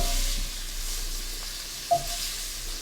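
Shrimp sear in a pan with a steady, quiet sizzle and hiss, plus a single small clink near the end.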